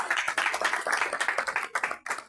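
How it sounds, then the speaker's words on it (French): An audience claps for a woman, steady dense applause with no one speaking. "Est-ce qu'on ne peut pas acclamer pour cette dame?"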